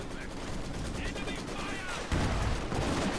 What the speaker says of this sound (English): AT gun's missing Kubels!